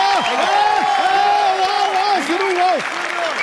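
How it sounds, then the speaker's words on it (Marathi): Crowd at a Marathi comedy show applauding, sustained clapping under a melodic voice singing or vocalizing over it, close and loud throughout. "जोरदार टाळ्या सरगमसाठी प्लीज."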